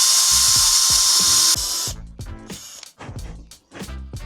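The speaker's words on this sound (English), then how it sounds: "So now we can hopefully drill into this" A power drill drilling into metal whines steadily, then bites in short, loud bursts with brief pauses between them, close up.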